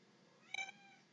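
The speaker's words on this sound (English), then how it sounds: "There's Kanga, meowing a little bit" A domestic cat gives a single short meow, quiet and fairly close, against a faint steady indoor background.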